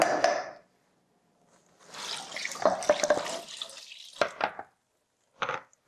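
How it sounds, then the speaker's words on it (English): Three cups of water pour into a crockpot of pasta sauce with tomatoes, heard as a splashing gush, a longer pour, then a few short splashes and a final brief pour, close up. "And then we've got 3 cups of water. We'll just dump that in."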